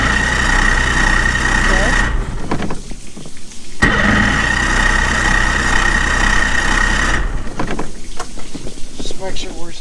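A new Tracker boat's engine runs at a steady idle, with a low continuous rumble and a whining tone, dropping out briefly before resuming. People talk intermittently over the idle.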